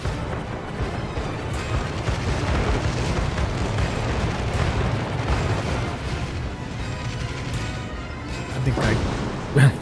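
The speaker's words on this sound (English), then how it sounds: "those shore batteries are still firing at us" Shore battery artillery in World of Warships, in a Dunkirk evacuation scenario: a continuous rumbling barrage of distant booms and blasts blending into a dense, steady roar with a voice speaking over it.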